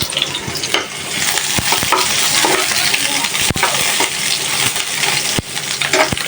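Shrimp frying in a pan for a prawn curry, with a steady loud sizzle and crackle throughout and a few sharp clinks and stirring knocks over the top.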